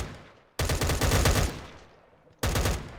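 Automatic gunfire in the Minecraft Cursed Walking modpack, two loud sustained bursts of rapid shots, the first about a second long and the second starting near the end, close and with no talk.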